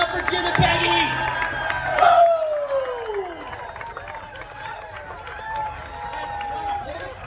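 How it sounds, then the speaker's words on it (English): Wedding guests cheer and shout for the couple, a lively crowd roar with whoops and chatter that peaks early and then settles into a lower murmur. "Big round of applause for these guys."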